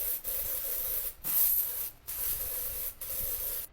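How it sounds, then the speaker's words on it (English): An aerosol spray can hisses loudly in four sustained bursts of about a second each, separated by brief pauses, with no talking. "You're actually not allowed to spray the sprays?"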